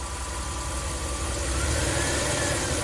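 A Ram camper van engine idling steadily, then revving lightly with a small press of the throttle, a continuous close, loud mechanical drone with no talk.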